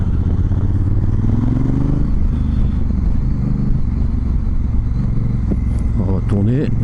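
Honda Africa Twin with DCT automatic gearbox ridden on the road, a steady close engine drone throughout with gear-shift pitch sweeps near the end, under wind and a rider's talking.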